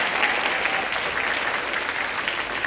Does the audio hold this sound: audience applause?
yes